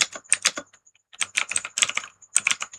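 Bursts of close computer keyboard typing while an ESP32 project note is written, quick clustered keystrokes separated by short pauses, with no talk.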